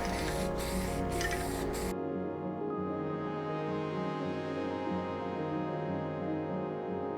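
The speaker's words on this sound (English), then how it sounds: "we're just gonna spray it down with some filler primer here" An aerosol can of filler primer hisses in a short close burst onto a 3D printed helmet, stops abruptly after about two seconds, and leaves a faint room hum for the rest.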